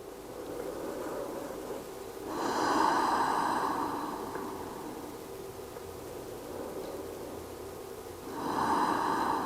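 Slow, deep breaths taken while resting in yoga child's pose, two long airy exhalations several seconds apart, close and soft with no talking.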